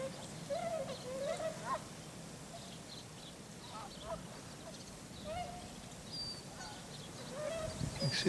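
Geese honk intermittently outdoors by a creek, scattered calls near and far with ducks quacking, over a soft background hiss and faint distant voices.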